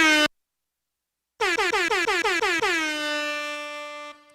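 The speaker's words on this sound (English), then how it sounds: "The one time I don't have the horn sample handy" Air horn sample played from a sound effects pad in a studio: a short blast, a pause, then a rapid stuttering series of loud honks that end in a long sustained blare.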